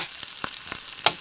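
Peppers are chopped with a knife on a glass cutting board, making four sharp, clicky taps roughly a quarter second apart, fairly quiet over a steady hissing background.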